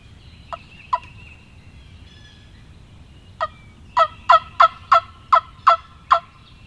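Wild turkey gobbling during a hunt in a new area, answering from brush: two short isolated calls, a pause, then a rapid run of about eight loud, evenly spaced gobble bursts, fairly close over quiet outdoor background.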